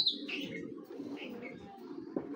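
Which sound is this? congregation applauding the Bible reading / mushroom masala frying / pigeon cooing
pigeon cooing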